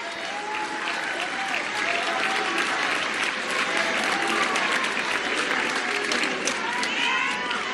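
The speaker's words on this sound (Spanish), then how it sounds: "Un aplauso a las estudiantes." Sustained, dense applause from a large crowd at a government event, steady and loud from start to end, with a few scattered voices calling out within it.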